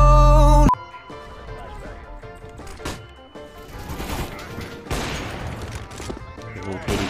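Rapid gunfire bursts crackle in a competitive video game match after a loud opening blast, with repeated shots mixed into busy game noise and an excited voice talking over it.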